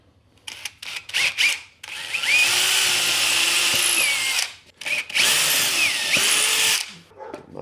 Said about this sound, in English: I've got a 4mm drill bit here. This is just going to be a pilot drill, and it's enough to go through both boards